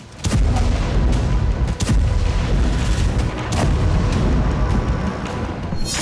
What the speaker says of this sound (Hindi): इजराइल एयरफोर्स ने बेरूत के दाहिया में बड़ी एयर स्ट्राइक की।